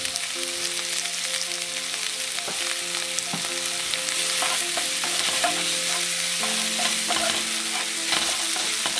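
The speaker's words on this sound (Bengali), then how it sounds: "পেঁয়াজটাকে লাল করে ভেজে নেব।" Chopped onions fry in a pan, giving a steady, dense sizzle that fills the whole stretch, with occasional stirring scrapes and clinks close by and no voices.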